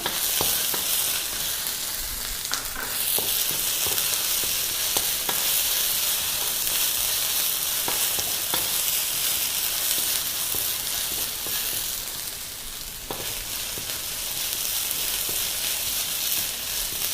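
Green chilies sizzle in hot oil with ginger garlic paste for a fusion ragi sevai dish, a loud continuous frying hiss, close up, with intermittent stirring clicks and a brief surge of crackle, and no voices.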